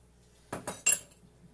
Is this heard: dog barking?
no